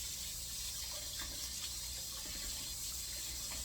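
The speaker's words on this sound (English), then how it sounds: "Wash your hands. Get all that off your hands." A faucet runs steadily while hands are rinsed clean of salt dough, giving a constant close splashing hiss of water with no voices.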